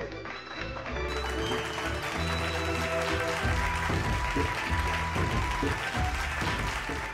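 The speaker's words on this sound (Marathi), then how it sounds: "अशा सुंदरशा परफॉर्मन्स साठी एकदा जोरदार टाळ्या झाल्याच पाहिजे" Audience applause after a stage performance, a dense continuous patter of clapping hands that holds steady across the whole stretch, with some tonal sound mixed underneath.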